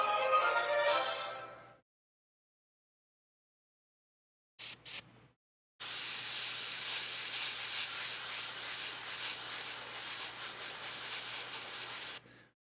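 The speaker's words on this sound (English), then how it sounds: "Got my transparent orange and the airbrush all locked in." An airbrush sprays transparent orange paint onto a miniature heavy dreadnought model: a short hiss, silence, two quick spurts, then a long steady close hiss lasting several seconds before cutting off.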